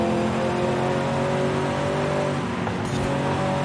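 A 1996 Chevy Impala's souped-up engine revs steadily in the Forza Horizon 5 racing game, a loud continuous drone with layered harmonic whine, held at high RPM throughout with a brief shift in tone near the end.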